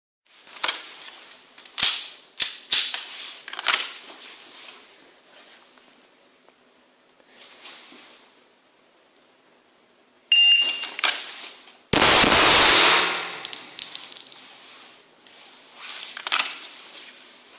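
Two handgun shots fired in a timed shooting drill, sharp cracks early on with a shot timer's electronic beep and other clattering range noise later, no speech.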